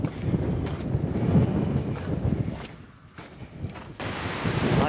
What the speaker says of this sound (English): It's a little gusty windy up here